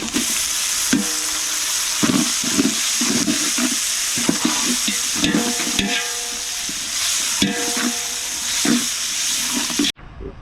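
Tomatoes are stirred into a frying beef masala gravy for nalli dosai: a sizzling hiss under repeated scraping, stirring strokes, close and fairly loud, ending abruptly.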